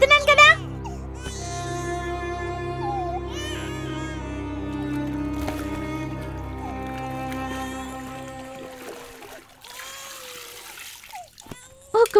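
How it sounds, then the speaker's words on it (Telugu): Water pours and splashes into a bucket, a continuous close trickling and splashing heard beneath a voice and other sounds for most of the scene before it thins out near the end. "ఒక బకెట్ నీళ్లు పట్టడానికి ఎంతసేపు అవుతోంది"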